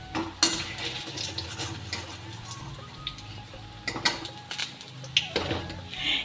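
Fried mustard flower pakoras being lifted out of a pan over a medium flame, with sharp utensil clinks and scrapes over a soft, steady sizzle of oil.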